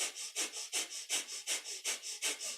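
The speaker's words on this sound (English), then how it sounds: "it's a panting breath, but through the nose" Breath of fire in kundalini yoga, a rapid panting breath pumped through the nose: about a dozen quick, even, hissing nasal exhalations in a steady rhythm, close and clear with no talking.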